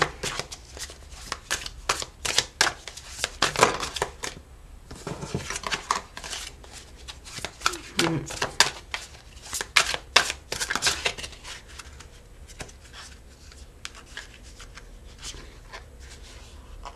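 Tarot cards being shuffled by hand, with bursts of crisp riffling and flicking that come in uneven clusters, loudest in the first half and then softer, with no talk.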